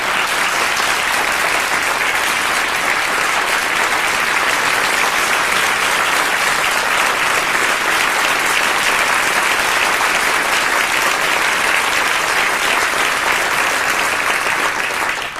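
Sustained, dense applause from a large seated congregation at a spiritual anniversary gathering, loud and steady without a break for the full stretch before tapering at the very end.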